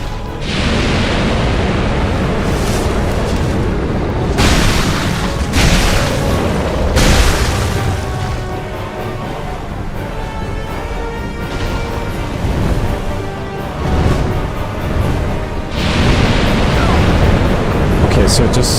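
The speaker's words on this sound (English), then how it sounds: "it does the fire breath straight down" Dragon fire breath attack in Dark Souls II, a dense roaring rush of flame and booming bursts that fills the whole stretch loudly and continuously, swelling and ebbing in waves.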